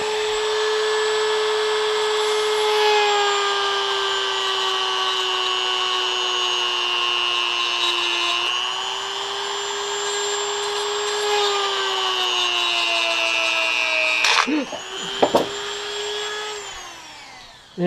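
A loud, steady high-pitched drill motor whine runs continuously while drilling a Hot Wheels toy car axle, shifting pitch slightly a few times, ending with a couple of sharp clunks.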